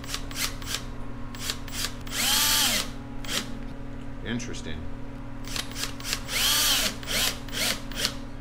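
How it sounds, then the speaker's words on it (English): A power drill bores into a brand-new ATV tire on a Yamaha Raptor 700 being fitted with studs, with two loud sustained whining bursts of drilling between short clicks and handling noise, and someone briefly speaking. "Let's drill into a brand new tire."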